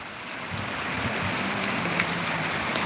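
Steady rain falls across a village, a dense even hiss that continues throughout with no gaps and no voices.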